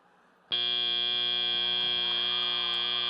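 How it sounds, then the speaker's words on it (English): A loud, steady end-of-match buzzer at a FIRST robotics regional competition kicks in abruptly and holds its harsh tone without a break. "that's the buzzer on this match"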